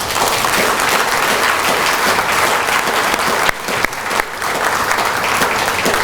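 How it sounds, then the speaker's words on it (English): A loud, dense wash of audience applause for Anwar Ibrahim's family fills the room without pause, with a few brief dips near the end. "I think we should give all of them a round of applause"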